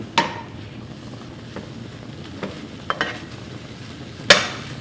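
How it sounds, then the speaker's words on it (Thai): Green vegetables stir-fried quickly over high heat in a pan, a steady sizzle broken by several sharp spatula clanks and scrapes, close and fairly quiet. "เราเร่งไฟแรงหน่อยนะ แล้วก็ผัดแบบเร็วๆเลย"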